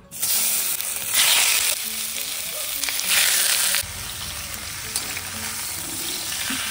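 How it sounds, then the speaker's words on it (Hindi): Pork sizzles loudly in its own rendered fat with no extra oil, a dense continuous frying hiss with occasional stirring scrapes. "बनने वाला है विदाउट एनी एक्स्ट्रा ऑयल हम लोग पोर्क का ही जो फैट से ऑयल निकलेगा उसको ही हम लोग यूज करेंगे"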